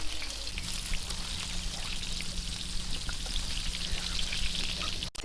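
Squid fries in a pan with a soft, steady hiss and faint crackle, then ends in a sharp clatter at the close.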